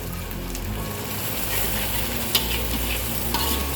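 Sambal of chili, lime leaves and shallots frying and being stirred in a pan, a continuous loud sizzle with scraping stir strokes and a couple of sharp clinks, close up with no talking.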